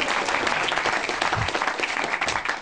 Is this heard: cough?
no